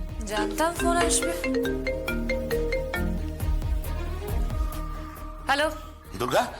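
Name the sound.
phone ringtone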